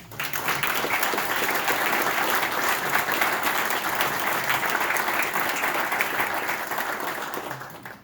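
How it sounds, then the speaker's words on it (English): A membership meeting audience applauds steadily for several seconds in a town hall, a dense even roar of many hands that swells quickly and tapers near the end. "I would like to give all of them a round of applause"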